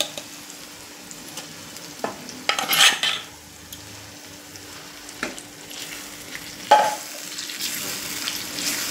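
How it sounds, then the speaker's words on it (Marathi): Mustard greens for sarson ka saag are stirred in a hot pan, with a steady sizzle and two sharp scraping clatters of a spoon against metal partway through. "पूर्ण भाजी मिक्स करून घेतोय"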